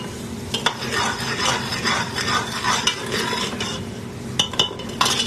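A spoon stirs a simmering curry with fresh cilantro in a pan over raised heat, with steady scraping and a soft sizzle throughout and a few sharper utensil clinks near the end.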